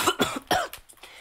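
Several quick, harsh coughs in succession, close and fairly loud, with brief gaps between bursts.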